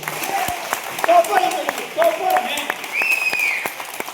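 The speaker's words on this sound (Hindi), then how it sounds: "ताली बजाइए टॉपर हैं" Scattered audience clapping at a motivational seminar in India, irregular and moderately near, mixed with a voice and room noise.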